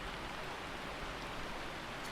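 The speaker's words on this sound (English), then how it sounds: "I love the rain sounds that I found I went through recording online and noticed it works perfectly" Steady, even rain in a video game, a soft continuous hiss without pauses or distinct drops, fairly quiet and alone.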